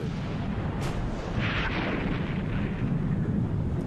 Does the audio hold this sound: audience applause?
no